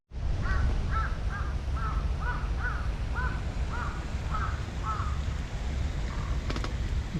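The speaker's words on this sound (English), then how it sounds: "I heard a crow as well." A crow caws repeatedly at Yamate Bluff, about ten evenly spaced harsh calls at moderate distance over a steady outdoor background rumble.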